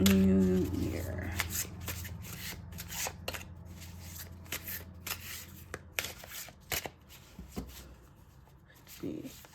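A tarot deck gets shuffled by hand close to the microphone, with quick papery riffles and soft taps between them, and a voice speaks intermittently over the sound.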